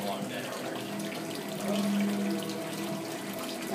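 Running water rinses out a LUXUS coffee urn, a steady close splashing and hiss from the tap that swells briefly near the middle, with faint voices in the background.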